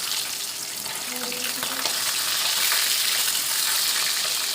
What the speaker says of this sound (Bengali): আমি মাছগুলোকে এক এক করে উল্টে করে ভাজবো, উল্টে পাল্টে ভাজবো